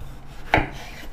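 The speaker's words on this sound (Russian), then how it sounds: "То есть берем помидор, разрезаем напополам." A single short cut as a knife slices a tomato in half, one brief crisp swipe against a quiet kitchen background with no talk.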